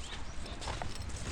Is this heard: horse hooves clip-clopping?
yes